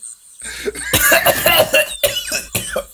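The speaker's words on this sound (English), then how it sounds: "I immediately start coughing" Several harsh coughs in quick succession, close and loud, with brief gasps between bursts.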